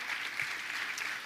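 A church congregation gives a short burst of soft, scattered clapping at a Sunday service, heard faintly and at a distance with no voices over it.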